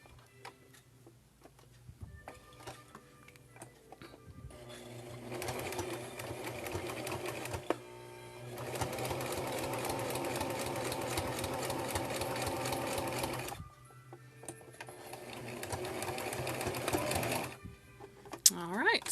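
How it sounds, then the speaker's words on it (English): Sewing machine stitching the corner of a fabric soup bowl hot pad, a close, rapid mechanical whirr in three separate bursts of a few seconds each, with quiet pauses between them. "And then I'm going to sew my other corner."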